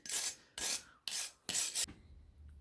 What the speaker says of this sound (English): been polishing at this side for a bit